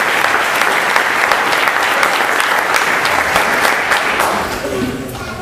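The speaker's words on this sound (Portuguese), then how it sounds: "Dá um aplauso a Jesus." Steady clapping from a church congregation during a sermon, loud and continuous with dense crowd hand claps that taper off slightly near the end.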